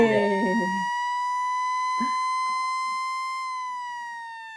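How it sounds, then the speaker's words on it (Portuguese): A steady electronic siren wail holds for several seconds after a brief shout at the start, loud and close. "Toca a sirene aí."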